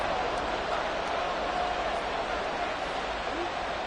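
A football stadium crowd roars steadily and loudly throughout, a dense, continuous wall of cheering noise with no pauses, heard up close and unbroken.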